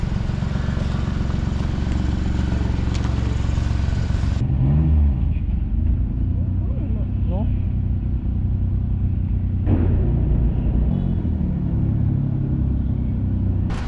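A car engine idles steadily during an emissions test inspection, a continuous close rumble that persists throughout, with shifts in tone partway through and no talking.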